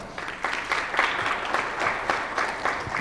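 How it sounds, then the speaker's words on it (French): Applause from an audience at a talk, a steady wash of many hands clapping at moderate volume, with no voices over it. "c'est de l'applaudir à distance"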